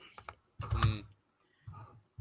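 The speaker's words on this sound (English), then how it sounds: "Angry typing." Quiet bursts of keyboard clacking come in short uneven clusters with pauses between, heard faintly in the background.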